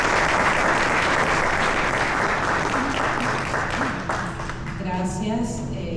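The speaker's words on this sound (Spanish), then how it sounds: "Recibámosla con un fuerte aplauso." An audience at a book launch applauds in a loud, dense, steady wash of clapping that fills the whole stretch, with a faint voice emerging near the end.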